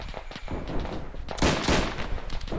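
Machine gun fire in Arma 3 set in a WW1 Battle of the Frontiers milsim, dense rattling bursts and crackling shots, loud and sustained with a heavier volley midway.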